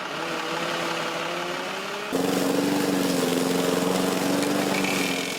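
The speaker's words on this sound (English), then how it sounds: "The hum of hard-working lawnmowers slowly slicing their way through overgrown yards can be heard" Steady engine drone of a lawn mower running nearby, with a tonal hum that shifts and grows louder midway, continuing without pause.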